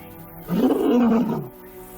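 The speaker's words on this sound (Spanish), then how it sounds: "Su frágil rugido es una llamada a sus hijas." A single short, strained roar from a weakened lioness calling her daughters, close and fairly loud, rising then fading over about a second against a quiet background.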